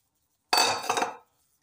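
Beef goes into a pot of hot oil with a sudden sizzling splash that burst in loudly and fades out within about a second, surrounded by silence.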